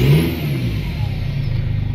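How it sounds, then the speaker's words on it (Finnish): Mercedes engine revving through a hoodpipe straight-pipe exhaust, loud and close, a throaty rasp that rises and then settles into a pulsing drone. "kyllä se kuuluu Hoodpipella, niin Hoodpipe kun on suora putki, niin kyllä se kuuluu ihan mukavasti"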